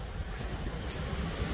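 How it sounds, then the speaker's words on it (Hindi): Steady wind blows outdoors in a parking area, a continuous low rumbling buffet against the microphone at moderate level with no pauses or voices. "यहाँ पे बहुत अच्छी हवा चल रही है, बहुत मस्त हवा चल रही है"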